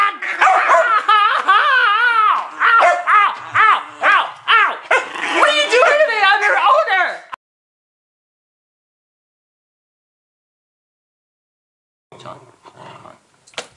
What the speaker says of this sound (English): Now, when I put you in the bag, I don't need you growling.